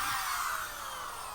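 A power drill bores holes in wood, a steady whirring drone running close and evenly throughout with no talk.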